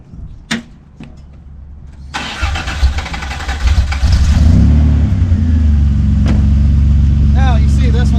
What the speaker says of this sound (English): I'll crank the engine up so we can keep the battery charged.